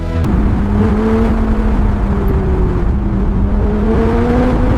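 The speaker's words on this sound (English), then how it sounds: "There is nothing quite like driving this car on an open road. The sound, the feel, it is perfect." A 2005 Ford GT, restored from a rusty state, drives on an open road, its engine droning steadily with a low, rising tone that shifts gears along the way, loud and close with no talking.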